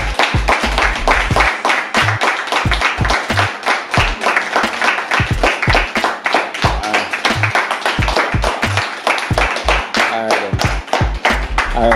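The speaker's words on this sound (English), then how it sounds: "So that clap there is for the barrel who arrived, so more claps, more applause." A group of people clap together for newly arrived shipping barrels, a loud and steady burst of handclaps that carries on throughout.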